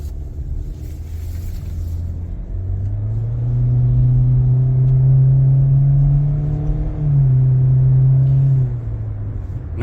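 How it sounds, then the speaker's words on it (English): 2024 Hyundai Kona SUV accelerating uphill, heard from inside: a steady low engine rumble builds into a rising drone, dips briefly as if shifting, then climbs again, with no talking. "we're going to go uphill, and we're going to see how the acceleration is on this vehicle"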